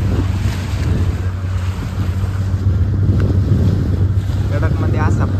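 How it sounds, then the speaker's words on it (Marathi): A boat moving over sea waves off the Konkan coast of Maharashtra in fog gives a steady, close rumble and rush of water and wind that runs through the whole stretch without pause. "आमची बोट चालली."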